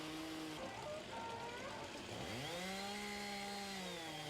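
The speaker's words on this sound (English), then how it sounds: "All we've heard is chainsaws." Chainsaws at a European speed carving championship snarl continuously at a distance, with engines revving up and down in pitch and several saws overlapping, and no talking.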